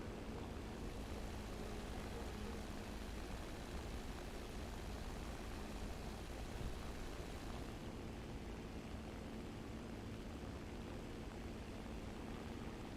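Steady propeller engine drone of a Ju-87 R2 dive bomber in the War Thunder flight game, a continuous broadband roar at even loudness, unbroken and alone with no talk.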